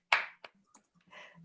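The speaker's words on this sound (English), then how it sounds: "I will stand up and applaud for Sarah as well." A sharp handclap rings out, followed by a few softer taps and claps, close and sparse, with a brief voice murmur at the end.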